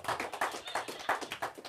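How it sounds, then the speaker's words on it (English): Small, thin applause from a sparse comedy-club crowd for the comedian's wife, a handful of people clapping irregularly and quietly for under two seconds. "How about a nice hand for my wife?"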